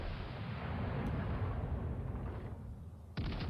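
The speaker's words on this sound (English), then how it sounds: "So I think we're going to take a shot and fire a shot at them" A King George V battleship fires its main guns in World of Warships Legends, a loud booming rumble that rolls on for a few seconds, fades, then a second sharp blast cuts in at the end.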